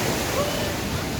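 Sea waves washing onto a crowded Goa beach during the monsoon season, heard as a steady, close hiss of surf that fills the whole short stretch with no distinct breaks.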